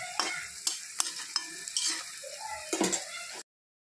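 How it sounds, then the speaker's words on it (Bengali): Bitter gourd fritters sizzle steadily as they fry in a pan, with sharp scraping clicks and taps of a spatula stirring them at irregular intervals; close and alone, without talk, before cutting off near the end. "তো সেম একইভাবে বাদ বাকিগুলো ভেজে নেব।"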